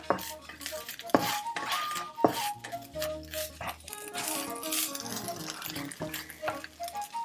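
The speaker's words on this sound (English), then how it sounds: "I'm going to add the onions to saute a little with the spices." Chopped onions go into a pan and sauté with spices for a Thai-inspired coconut curry salmon, with clinks and scrapes of a utensil stirring against the pan and a soft sizzle underneath.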